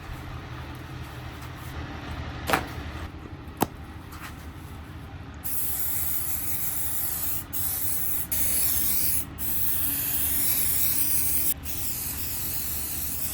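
Fixative sprayed from an aerosol can onto a painting outdoors, a continuous loud hiss that starts partway through and runs steadily with a few short breaks, after a quieter stretch with faint background noise and a couple of sharp clicks.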